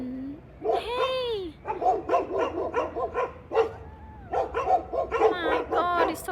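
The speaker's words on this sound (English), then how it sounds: "there's so many dogs." Many dogs bark together nearby, a dense overlapping run of yaps and barks with a few whimpering, rising yelps mixed in.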